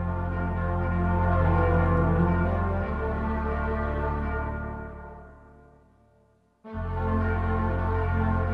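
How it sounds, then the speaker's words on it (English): Church bells from an electronic sound module ring out in a sustained, resonant peal that fades to near silence before striking up again loudly, with no talking. "Church bells."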